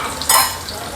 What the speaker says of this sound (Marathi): शेंगदाणे घालून घेऊ